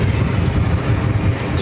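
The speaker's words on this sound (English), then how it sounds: "So it looks like that American 777-300ER coming in from Madrid, flight 9-5, but looking like it's lining up for a runway" An American Airlines Boeing 777-300ER airliner on approach to a runway at JFK, its engines giving a steady, loud broadband roar that holds evenly, with no voices heard.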